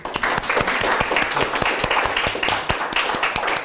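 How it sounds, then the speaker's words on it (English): A talk show audience claps steadily, a sustained wall of applause with sharp individual claps standing out, close and fairly loud without talk. "Please clap it up for Jorge, Serafin."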